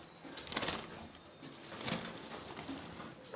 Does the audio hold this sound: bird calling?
yes